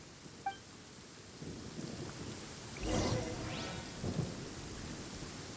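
Rain and rolling thunder from the Genshin Impact video game: steady rain hiss throughout, with a low thunder rumble swelling around the middle and a second softer roll later, no talking.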